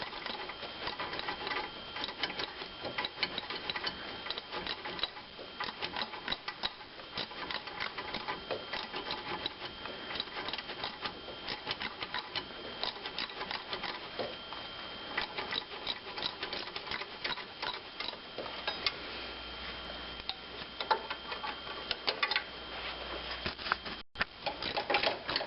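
A ratchet rapidly clicks in long, dense runs of fine ticking while snugging up 15 mm bolts on a Dodge Caravan 3.0L engine during timing belt and water pump work, close and fairly quiet.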